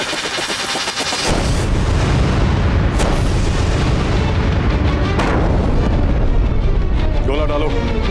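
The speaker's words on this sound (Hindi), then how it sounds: "बरसाते रहो तोपों से गोले" Cannons bombard a fort in a historical TV drama about Chittorgarh, with a sudden loud blast followed by sustained rumbling fire and further booms, people speaking underneath.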